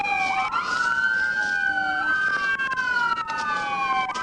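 A police siren wails loudly nearby, its pitch sweeping up and down in long continuous cycles with a faint second siren layered underneath.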